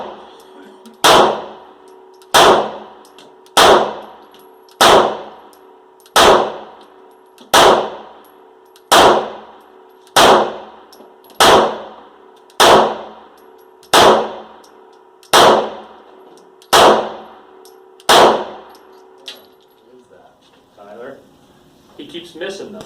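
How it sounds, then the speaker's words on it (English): Shots from a KSG shotgun and a Walther pistol ring out in a steady series of about fourteen loud, sharp reports with metallic clangs from struck targets, evenly spaced and close. "let's go ahead and roll in some footage of some shooting with on the KSG and the Walther"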